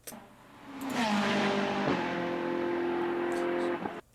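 Ferrari 488 engine revving up and holding a steady, harmonically rich note, then dropping off sharply at the end, loud and close with no talk over it.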